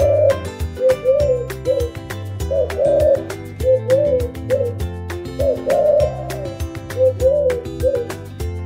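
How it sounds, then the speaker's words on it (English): A pigeon cooing in a repeated series of soft, low hooting phrases, close and fairly loud, with a steady rhythmic pattern and no talking. "Pigeon."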